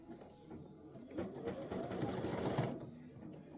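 An embroidery machine running a travel stitch on an appliqué design, a steady quiet mechanical whir with rapid needle chatter that swells slightly midway and then eases off.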